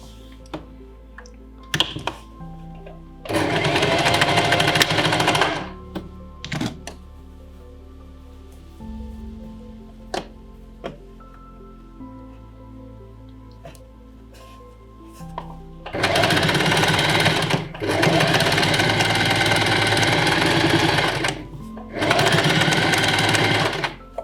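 A sewing machine stitches a garment pattern, matching waist point to waist point, in loud, fast, buzzing bursts of a few seconds each, separated by quiet pauses with faint handling clicks.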